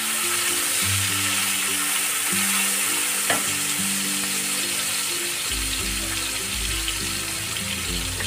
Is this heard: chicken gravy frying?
yes